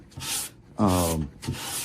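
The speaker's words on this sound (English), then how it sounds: "continuing with the unidirectional sanding" Three rasping strokes of sandpaper rubbing along the grain of wood to repair end grain tear-out, in a steady back-and-forth rhythm, with a brief voiced hum during the middle stroke.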